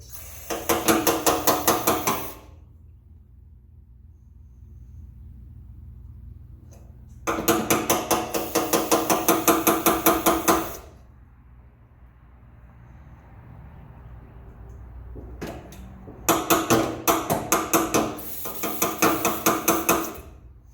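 Three bursts of rapid metallic tapping on a bus generator engine while spraying it, each lasting a few seconds, separated by quieter stretches with a low steady hum and faint hiss.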